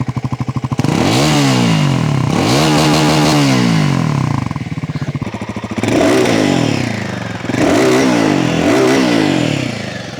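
A Royal Enfield Guerrilla 450 or Triumph Scrambler 400X motorcycle idles with a loud, thumping exhaust beat, then revs up repeatedly in sharp surges before dropping back, close by and very loud.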